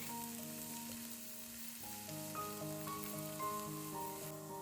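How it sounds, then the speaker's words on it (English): Chopped onion frying in oil in a pan, a soft continuous sizzle sitting under gentle melodic background music, fairly quiet and steady. "While the onion is frying,"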